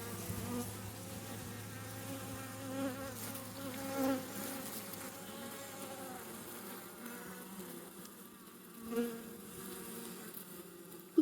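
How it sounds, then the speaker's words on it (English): Honey bees buzz around a queen cage, a steady close insect drone with swells in loudness as individual bees move nearer and away. "Looks like there's bees in there."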